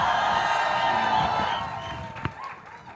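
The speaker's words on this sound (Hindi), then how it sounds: "रणबीर बैठा है, इसके लिए ताली बजा दो एक बार यार।" Crowd at a Bollywood trailer launch with Ranbir Kapoor and Shraddha Kapoor, cheering and clapping in a dense, continuous wash that fades toward the end, with a sharp knock near the close.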